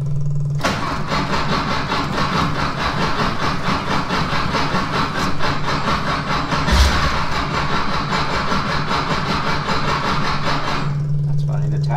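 A Bradley GT kit car with 5,010 miles cranks and fires up, its engine then running steadily and loudly close by at a constant idle with a brief surge near the end, while people talk over it.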